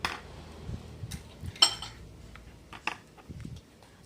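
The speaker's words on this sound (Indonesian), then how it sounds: "Kita aduk dulu sedikit dulu ya teman-teman" A utensil stirs a snack mixture of chopped instant noodles and oil in a pan, giving soft scraping and scattered metallic clinks in an irregular rhythm, close but fairly quiet.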